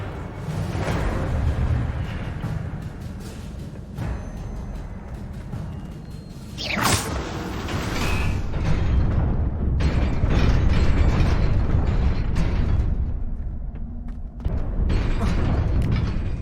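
Incendio fire spell cast in Hogwarts Legacy, a fiery whooshing burst with crackling blasts amid continuous game combat noise, loud and close, followed by ongoing rumbling effects.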